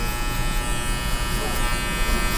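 An electric hair clipper buzzes steadily while cutting hair during a fade haircut, a continuous close hum with no breaks throughout.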